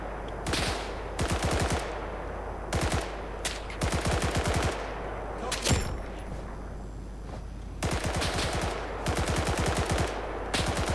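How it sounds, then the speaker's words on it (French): Rapid bursts of automatic gunfire in the video game Blackhawk Rescue Mission 5, a Kozlovka map match, crackle in repeated volleys of sharp cracks with brief pauses between them. "C'est qui tire comme ça"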